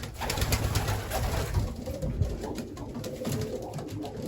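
Racing pigeons coo in a loft holding breeders and young birds, several soft overlapping calls continuing close by throughout.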